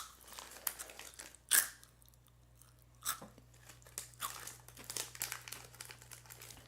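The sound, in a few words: crunchy Okinawa snack being bitten and chewed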